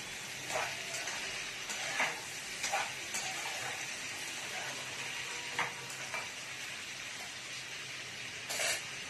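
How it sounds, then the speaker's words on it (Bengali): Vegetables with turmeric and salt fry and sizzle steadily in a pan, with a few distinct stirring scrapes breaking through the hiss at intervals. "সবজিগুলো দিয়ে দিয়েছি। একটু হলুদ, একটু নুন দিয়ে একটু কষবো।"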